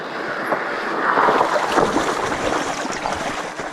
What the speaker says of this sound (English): Crossing a creek.